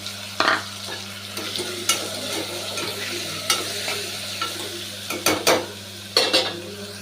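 Green chili and moong dal sautéing in a pan for a spinach kootu, with a steady soft sizzle broken by sharp scraping and stirring knocks from a spatula against the metal, close and clear.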